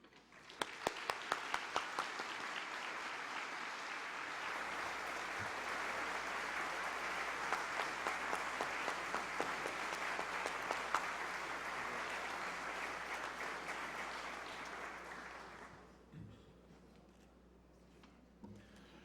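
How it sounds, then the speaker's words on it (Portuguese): Applause for an honoree at a solemn session of the São Paulo state legislature, starting with a few distinct claps and swelling into sustained crowd clapping that fades out after about fifteen seconds. "solicitando uma calorosa salva de palmas ao nosso homenageado"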